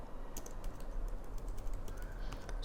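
Computer keyboard being typed on while writing Python code, a soft, steady patter of quick key clicks running throughout, fairly quiet and close with no voice over it.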